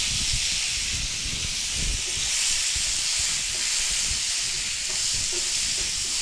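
Brinjals frying in hot oil with curry leaves and asafoetida give a steady, close hiss and sizzle that runs unbroken, with no voices.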